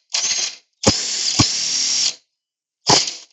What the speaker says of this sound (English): impact wrench, it makes that a little easier